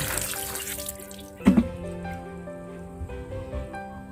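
Homemade liquid fertilizer is poured over garden vegetables, a soft, close splashing stream with one brief louder gush partway through, and no speech.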